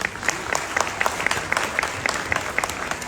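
An audience at a Gujarati lok dayro folk music gathering breaks into brisk, dense clapping, close and continuous with sharp individual claps throughout.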